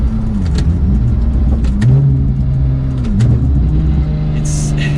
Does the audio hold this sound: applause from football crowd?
no